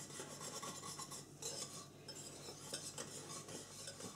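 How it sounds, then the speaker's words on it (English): A stainless steel utensil whisks lye soap base mixture in a bowl, giving a steady scraping, rasping stir with quick metallic rubs throughout, close and fairly quiet, with no talking. "I'm just going to kind of whisk it all carefully together"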